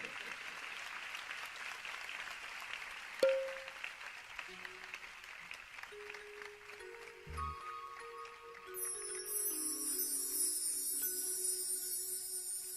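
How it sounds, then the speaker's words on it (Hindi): An audience at a Jain religious discourse gathering applauds for several seconds, a steady wash of clapping that softens and gives way to faint tones and background sounds. "आप सभी लोग तालियों के द्वारा उनको पुरस्कृत करें"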